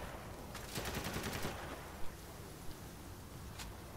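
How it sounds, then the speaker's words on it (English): Gunfire in the video game Spec Ops: The Line, a fairly faint rapid automatic burst followed by a couple of isolated single shots, with distant battle ambience and no talking. "Who the hell is he shooting at?"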